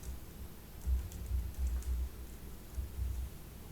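Someone types on a computer keyboard while programming, a quick run of soft keystrokes in uneven bursts with short pauses, close and fairly quiet, with no talk.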